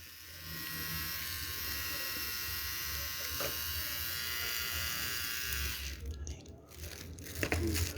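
A Kemei electric hair trimmer runs with a steady, close, high-pitched motor buzz for about six seconds, then cuts off into handling clicks and rustling.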